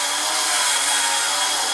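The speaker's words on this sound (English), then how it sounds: "which you turn around and you drill again" A steady, loud high-pitched whine of a power drill running continuously while drilling a plastic bottle cap, with no pauses or voices.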